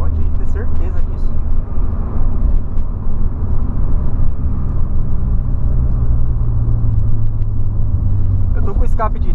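A steady low engine rumble and road noise from inside a 2008 Volkswagen Polo Sedan with a straight-pipe exhaust cruising on a highway, with a deep exhaust drone and someone talking over it.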